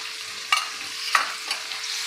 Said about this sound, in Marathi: आणि हे आपल्याला तेलामध्ये परतून घ्यायचं आहे